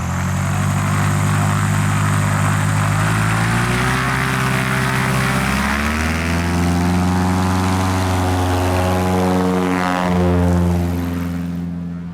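Cessna 170 tailwheel airplane: loud, close propeller engine drone with strong low harmonics that shift and drop in pitch midway, then hold steady before tapering slightly at the end, no talk.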